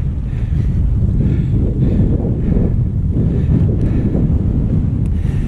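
Strong, steady wind roars and buffets the microphone while cycling along a road, a dense low rumble that continues throughout with no talking.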